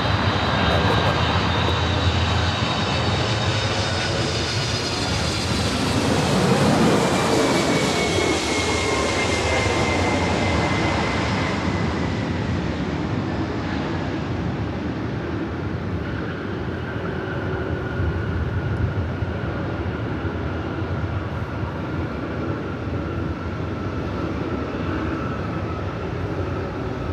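A jet airliner takes off at Los Angeles LAX airport with a loud, sustained engine roar that swells and then slowly fades as it climbs away.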